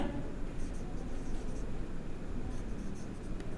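A pen scratches steadily across paper while a math solution is written out by hand, soft close continuous scribbling with no talk.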